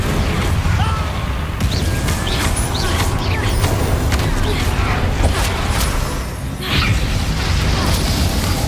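Spell blasts and explosions erupt in a Hogwarts Legacy battle, dense repeated booms and crashes over a constant rumbling din with shouted casting mixed in throughout.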